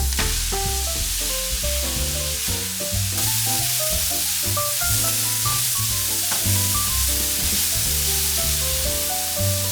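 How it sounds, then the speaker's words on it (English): Mushrooms sauté in butter with shallots in a non-stick skillet, giving a loud, continuous hissing sizzle throughout, with a soft tonal background underneath. "Add mushrooms and sauté until dry."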